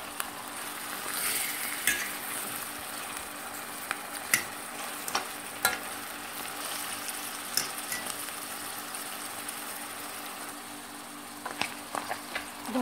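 Chicken escalopes stuffed with carrots frying in a pan as they are turned, a steady soft sizzle with scattered clicks and scrapes of utensil against the pan, no talking.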